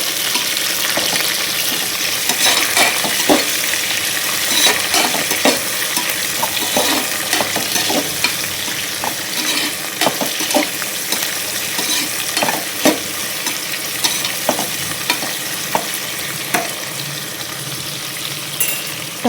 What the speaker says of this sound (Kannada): ಸ್ವಲ್ಪ ನಾನು ಈರುಳ್ಳಿ ಹಸಿಮೆಣಸಿನಕಾಯಿ ಹಾಕ್ತೀನಿ